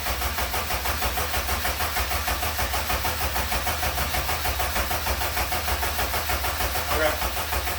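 Car engine cranking over without starting to prime oil through a newly fitted turbo on an eBay EM2, a steady rhythmic churning drone that holds evenly throughout, close and continuous.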